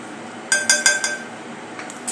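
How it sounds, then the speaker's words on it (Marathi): A spoon clinks against a bowl as cornflour is added to a spiced snack mixture, with four quick bright metallic taps in a row and two fainter taps shortly after, heard close up. "आता यामध्ये घालणार आहोत 1 चमचा कॉर्नफ्लोअर"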